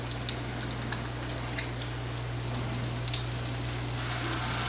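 Frikadelle meatball dropped into a hot pan of fat, giving a steady close sizzle and crackle with scattered spatters, over a low constant hum, no talking.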